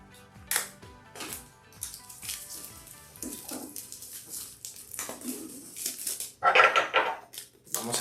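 Crinkly plastic wrap being cut and peeled off a new MacBook Pro 13-inch during unboxing, a series of close crackling rustles and scrapes that grow denser and louder toward the end.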